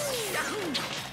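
A forward smash attack in Super Smash Bros. Ultimate lands as a single sharp crash-like hit amid sweeping whooshes and game effects during a tournament broadcast, with no commentary over it.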